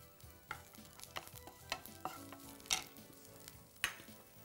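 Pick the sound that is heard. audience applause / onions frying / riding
onions frying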